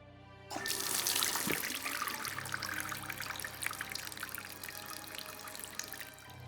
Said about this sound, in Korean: 남자 외에 다른 사람은 아무도 없는 화장실에서 물소리가 들렸고